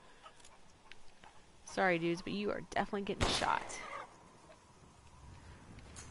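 Chickens cluck in the survival horror game Resident Evil Village, a short burst of loud squawks cut by sharp gunshots, while someone talks over the commotion.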